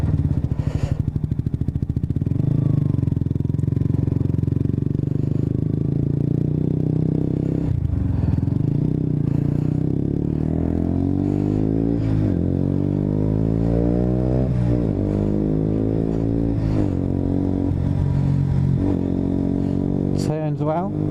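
A KTM RC125 sport bike with a trellis frame is ridden on the road, its small single-cylinder engine droning steadily and rising and falling through repeated revving gear changes for about twenty seconds.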